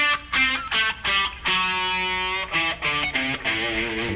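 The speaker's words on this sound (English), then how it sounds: "that'll sound something like this if you do the full pentatonic scale with the Dorian note" Electric guitar picking out a full minor pentatonic scale with an added Dorian note, clean sustained notes in a steady phrase, some held longer, close and fairly loud with no talking.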